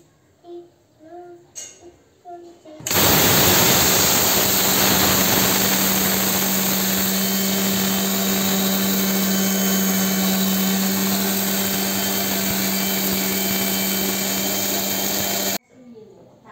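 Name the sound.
electric grinder grinding spices to powder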